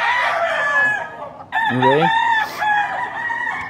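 A fighting rooster, a Hatch gamecock, crows once loudly and close by in a long rising-and-falling call, after a brief spoken word and with clucking fowl around it.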